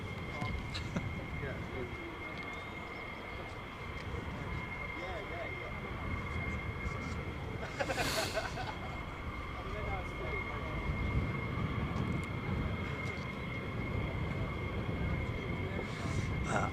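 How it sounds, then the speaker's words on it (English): A military aircraft at RAF Lakenheath, where F-35s are operating, roars steadily overhead with a broad, sustained engine rush that swells slightly toward the end. "I hear planes, folks, and here one comes now."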